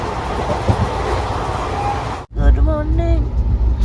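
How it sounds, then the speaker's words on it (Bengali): Paharia Express passenger train running at speed between Uluberia and New Jalpaiguri, a steady loud rumble of wheels and carriage heard from inside, cut by a brief dropout and followed by tonal squeals over continuing rail noise. "ট্রেন এখন দারুণ গতিবেগ নিয়ে ছুটে চলেছে"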